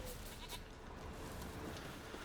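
A goat bleats faintly in The Witcher 3, a quiet animal call set against a steady wash of game ambience.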